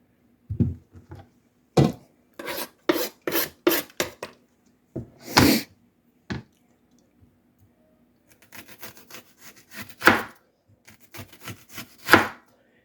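Knife chopping food on a cutting board, including onion, for barbecue chicken prep: crisp irregular chops in quick bursts separated by pauses, close and fairly loud with no talking.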